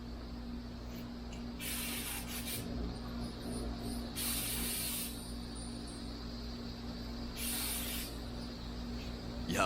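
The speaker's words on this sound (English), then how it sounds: "we're gonna go ahead, shoot some primer on these fenders" Bursts of a spray gun shooting primer onto sanded Foxbody Mustang fenders, three loud hissing blasts of a couple of seconds each, separated by pauses over a steady low shop hum.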